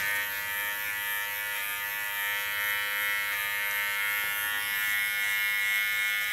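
An electric hair clipper cutting a bob hairstyle buzzes steadily and close up, a bright continuous hum with slight changes in pitch as the blades move through the hair, with no voices.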